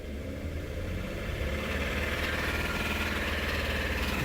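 A 2002 Nissan Maxima SE engine with a rod knock, held at about 2,000 rpm, gives a loud, steady, close-up running drone with a dense, rough vibration throughout and no talking.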